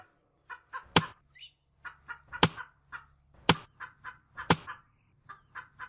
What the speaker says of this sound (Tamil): அபிராமி, அபிராமி, அந்த கட்டியிருக்க கோழியை கொண்டு வா.